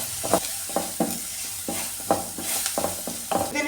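Onions sautéing in a pan with salt and turmeric, soft steady sizzle broken by repeated close scraping stirs of a spoon, about a dozen strokes in a loose rhythm, with no talking.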